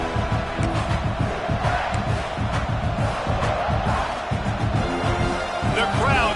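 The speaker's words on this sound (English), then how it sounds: "The crowd getting behind this defense as they try to get a stop in the red zone." A dense, continuous crowd roar fills a football stadium as fans urge the defense on near the goal line, loud and sustained throughout with shouting mixed in.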